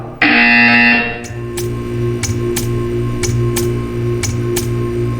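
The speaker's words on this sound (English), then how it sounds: "You will hear a buzzer." A loud, harsh electronic buzz blares for about a second in Portal 2, followed by steady ticking clicks over a low droning hum.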